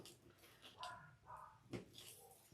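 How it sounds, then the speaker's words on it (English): Faint, distant dog barks come in a few short bursts over a low, steady background hiss. "Why are they barking?"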